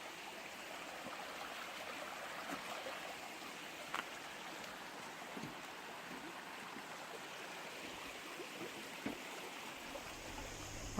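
A stream beside the Appalachian Trail near Highway 19E flows in a steady, faint, continuous wash of running water, with a few small splashes and no talking.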